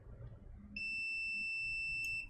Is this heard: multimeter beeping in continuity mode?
yes